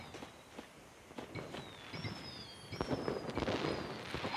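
Fireworks crackle and pop at a backyard celebration, with dense bursts and faint whistling streaks building louder toward the end, and no voices over them.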